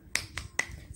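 Three sharp, separate claps spaced about a quarter second apart, close and moderately loud, from a teacher's classroom cheer with young children.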